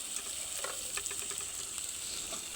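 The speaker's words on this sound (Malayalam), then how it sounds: "ഒരു 3 പച്ചമുളകും കൂടി കീറിയിട്ട് ഇട്ട് കൊടുത്ത് നല്ലോണം മൂപ്പിക്കാം" Garlic, tomato and slit green chilies sauté in hot oil for a jackfruit masala curry, giving a steady close sizzle with scattered stirring scrapes and light crackles throughout, no voices.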